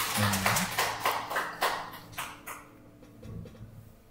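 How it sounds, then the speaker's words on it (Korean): A church congregation at a Sunday youth worship service claps in a quick burst that thins out and fades after a couple of seconds. "우리에게 주님의 보혈 안에 있게 하신 주님께 감사와 영광의 박수를 드립니다."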